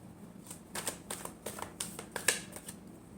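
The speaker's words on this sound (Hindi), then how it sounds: "Last shuffle." Tarot cards are shuffled close up in a quiet room, producing a rapid series of crisp riffling snaps and flutters that come in short bursts of about a dozen irregular clicks.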